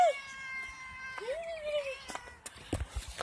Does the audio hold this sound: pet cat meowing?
yes